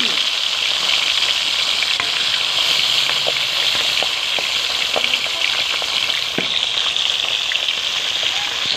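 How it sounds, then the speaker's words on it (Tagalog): Catfish frying in hot oil, a steady dense sizzle with scattered crackles and pops, loud and close throughout without talk. "piniprito na natin yung hito na nilinis natin kanina"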